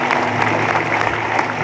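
A church congregation at a Sunday revival service gives a clap offering, a loud, dense roar of sustained applause filling the room, with a low steady hum running underneath.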